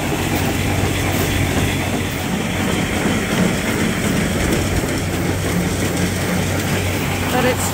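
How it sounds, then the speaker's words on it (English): An auger pulls grain out of a feed mixer on a sheep farm, making a steady, loud mechanical rumble with rattling clatter that runs continuously throughout. "But it's just an auger that pulls the grain out of that mixer."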